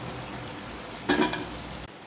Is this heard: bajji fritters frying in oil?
yes